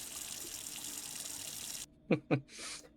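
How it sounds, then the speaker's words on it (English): Tap water rushes steadily into a kitchen sink for about two seconds while two plates are washed with soap, then cuts off, and voices talk briefly afterward. "we're just gonna wash the 2 plates together. Throw a little water and soap on them"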